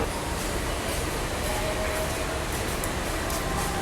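A non-AC local train at Chennai Beach station gives a constant, close rumble and rattle of carriages, steady and unbroken throughout.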